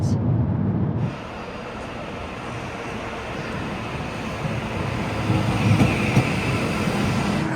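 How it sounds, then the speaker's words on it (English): A TransPennine Express Class 397 train runs along the line, heard from onboard as a steady broadband rumble and rail roar with faint hiss, rising a little in loudness toward the end. "This is my first time on a Transpennine Express Class 397 and they call them Nova 2s."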